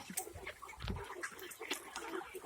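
Three-month-old hens on a farm in Karnataka cluck and squawk faintly over a low background murmur, several birds calling in quick, overlapping bursts.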